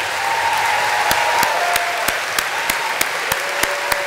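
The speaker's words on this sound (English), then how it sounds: "with a warm round of applause, join me in thanking your family and friends who are here today" Graduates at a 2015 health science, social work and psychology commencement applaud their family and friends: a broad wash of crowd clapping with one nearby pair of hands striking sharply at a regular beat, and a faint tonal voice or whistle drifting through.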